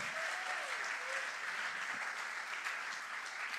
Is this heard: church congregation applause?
yes